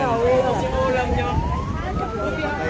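A fire truck siren wails at a roadside car fire scene on Alabang–Zapote Road in Las Piñas, a steady rising tone carried over constant traffic rumble while people talk nearby.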